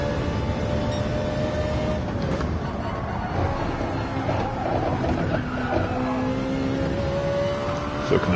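A Ferrari race car in Gran Turismo 7 drones steadily at Fuji International, its engine tone rising and falling through gear changes, loud and continuous from start to end.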